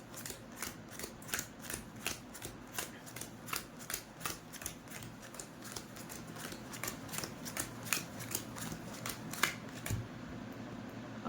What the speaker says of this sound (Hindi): अब इस तरह से कार्ड्स डील हो गए हैं।